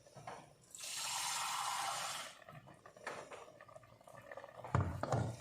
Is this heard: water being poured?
yes